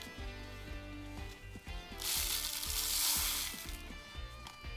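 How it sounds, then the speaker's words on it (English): Sand poured through a folded paper funnel into a pipe gives a short, soft hissing rush, lasting about a second, that rises over steady background music. "Pour your sand in."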